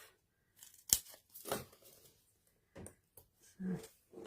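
Scissors snip through small pieces of cardstock, cutting them in half: a few quiet, sharp cuts and rustles spaced irregularly with pauses between.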